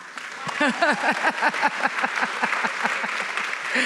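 An audience at a book event applauds, a dense burst of many hands clapping that swells and holds steady for a few seconds, with no clear talk on top.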